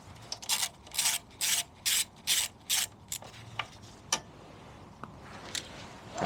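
Bolts being loosened with a ratchet on a body panel of a Honda Gyro NV50 scooter under restoration, a run of about seven quick, evenly spaced ratcheting bursts, close up, followed by a few scattered clicks and scrapes.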